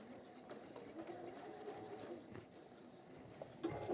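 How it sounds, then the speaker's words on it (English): A sewing machine runs across the end of a lined apron, a soft, quick rhythmic whir heard close but faint and steady, briefly louder near the end. "So we're going to sew across the end"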